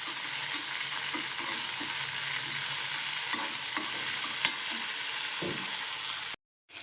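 Potato filling being stirred with crushed chili in a pan, a steady loud sizzle with scraping stir sounds throughout, ending in a brief silence.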